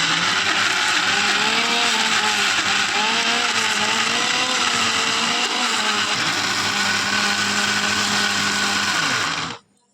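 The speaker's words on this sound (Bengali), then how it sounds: "অল্প একটু জল দিয়ে আমি মিক্সচারে পেস্ট করে নেব" A mixer grinder whirs loudly, grinding soaked lentils with a little water into a paste, its motor pitch wavering slightly as the load shifts, then cutting off abruptly near the end.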